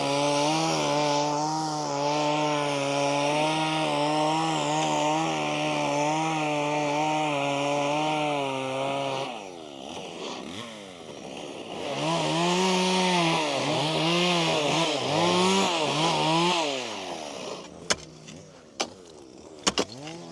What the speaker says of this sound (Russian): Сейчас придет бензопилой с длинной шиной, пройдется